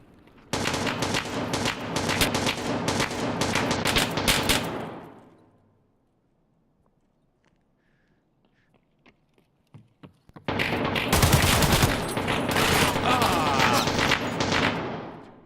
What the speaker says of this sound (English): What was that guy shooting at across the way?